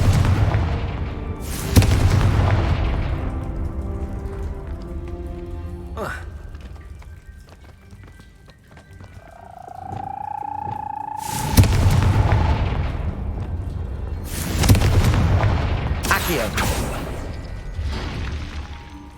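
Deep booming blasts from the Confringo fire spell in the Hogwarts Legacy game, several heavy explosions with rumbling tails and a rising magical tone between them, loud and up front.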